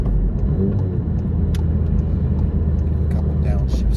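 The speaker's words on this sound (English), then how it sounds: "A couple downshifts here. Some heel toes." Volkswagen MK7 GTI engine blipping through a couple of heel-toe downshifts, heard as a steady low in-cabin drone with a voice talking over it.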